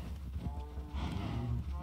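A Minecraft cow lets out a low, drawn-out moo up close, with a muffled rumble of game sounds beneath it.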